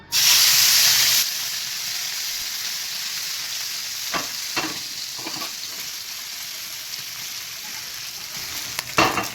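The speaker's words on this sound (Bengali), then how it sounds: "সর্ষের তেল আমার গরম হয়ে গেছে এই চুনো মাছগুলো নুন হলুদ অনেকক্ষণ ধরে মাখিয়ে রাখা হয়ে গেছে এগুলো আমি ভেজে নেব" Small chuno fish, salted and coated with turmeric, drop into hot mustard oil and fry. A loud sizzling burst comes first, then settles into a steady hiss with a few clattering stirs.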